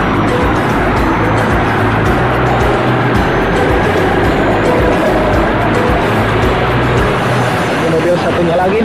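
A car on a school tour trip from Cikijing to Pangandaran gives a loud, steady engine and road rumble that runs throughout, with voices talking over it.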